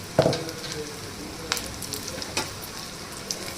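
Malabar spinach bajji frying in hot oil give a steady, fine sizzle throughout, with a few soft clicks and stirring sounds; no talking.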